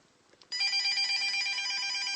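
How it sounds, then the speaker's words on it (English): A telephone bell rings out suddenly after a quiet moment, a loud sustained bright metallic trill that continues steadily to the end, heard alone. "And the phone rings, so I'll be back later."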